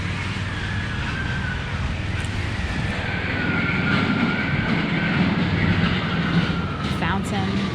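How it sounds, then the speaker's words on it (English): An amusement park train ride rumbles past at Bushkill Park, a steady rolling noise with faint squealing tones over outdoor ambience and a brief metallic clink near the end. "There goes the train."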